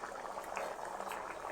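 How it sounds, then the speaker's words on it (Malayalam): Jackfruit seed curry with raw mango, drumstick and dried prawns bubbling in a pot, a close, steady wet simmer with soft popping bubbles throughout a short stretch, no voices. "കറി നല്ലതുപോലെ തിളച്ച് വരട്ടെ."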